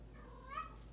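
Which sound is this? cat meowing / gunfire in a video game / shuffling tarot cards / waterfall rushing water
cat meowing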